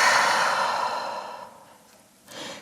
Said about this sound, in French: Une deuxième fois, respirez, grande respiration.